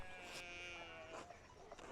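Sheep bleating in the video game Pentiment, a wavering nasal animal cry with tonal harmonics, fairly quiet and steady through the moment with no talk.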